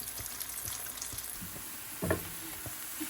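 Onions frying in a pan, a steady soft sizzle with faint stirring scrapes and a brief louder crackle near the end, heard up close with no talking.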